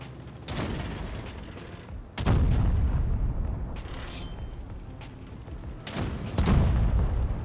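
Heavy tank cannon shots in the World of Tanks game, three booming blasts a few seconds apart, each with a long rumbling tail over continuous engine and battle noise.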